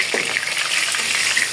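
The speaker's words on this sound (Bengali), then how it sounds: "এখানে মুরগি ভাজি করতেছে" Chicken pieces frying in a pan for a roast give a continuous bright, hissing sizzle, loud and close, with no talking.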